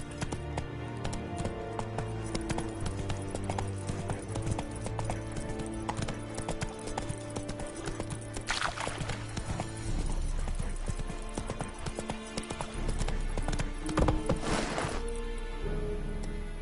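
Roach the horse galloping in The Witcher game, a steady rapid clip-clop of hooves running continuously over a layer of game music, with no talk.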